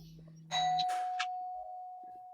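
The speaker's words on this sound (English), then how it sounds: "Doorbell." A doorbell chimes indoors, a clear two-tone ding-dong with a lingering ring that decays slowly, fairly close and mostly alone.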